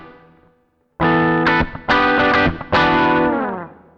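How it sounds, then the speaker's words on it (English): A clean electric guitar tone through a Tech 21 Richie Kotzen Fly Rig V2 with short reverb plays three loud chord strums, each ringing out and then fading with a brief tail. "you can also add a reverb function to your clean sound."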